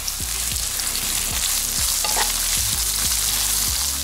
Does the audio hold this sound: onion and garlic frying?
yes